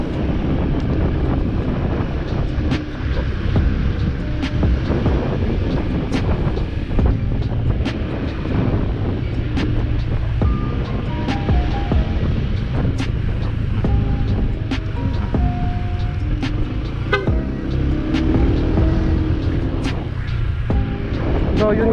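A Honda PCX 160 motor scooter rides along with constant buffeting wind noise over the mic, its engine droning beneath and occasional clicks and knocks cutting through.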